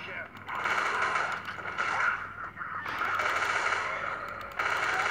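Gunfire in the video game Left 4 Dead, dense rapid bursts from automatic weapons with brief gaps, loud and close in a busy game mix.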